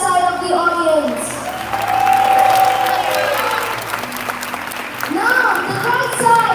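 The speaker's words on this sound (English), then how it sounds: "Let's hear a huge cheer from the left side of the audience." Applause and cheering rise from one side of a theatre audience, swelling loud in the middle and then easing, with a voice talking over parts of it and bright melodic tones underneath.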